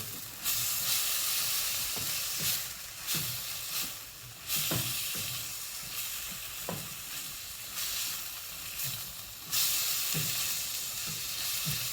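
Chicken, black bean and carrot stir fry sizzles steadily in an oiled pan, a continuous hiss broken by repeated scraping and tossing sounds as the food is kept moving.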